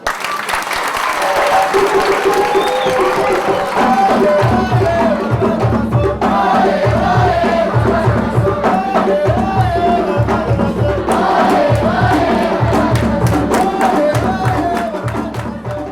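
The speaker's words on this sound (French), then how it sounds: "On les applaudit très fort" Loud, steady applause from a concert audience for a Congolese group, sustained for the full length with a rhythmic beat pulsing underneath.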